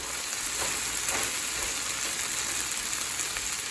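Okra frying in oil in a pan gives a constant, even hiss like light rain, close and steady throughout with faint stirring touches and no voices.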